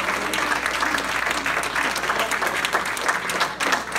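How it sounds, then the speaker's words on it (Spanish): A church audience applauds together, producing a continuous crackling roar of many clapping hands at a fairly loud, steady level throughout, with no one speaking over it. "Yo no sé si usted puede darle un aplauso, Señor"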